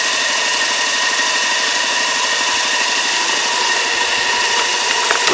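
Steam engine running on a coal-fired vertical boiler, held just under 90 psi with the blower dialed back; a steady, loud broadband hiss and mechanical hum continue throughout with faint rapid chuffing texture and no talk.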